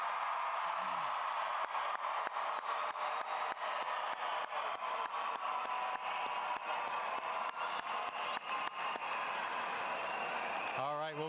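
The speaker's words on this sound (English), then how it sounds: "give yourselves a round of applause" Graduation ceremony audience at Waterloo West applauding graduates after the tassel turn: a dense, sustained wash of clapping and crowd noise filling the hall for about eleven seconds, steady and loud throughout.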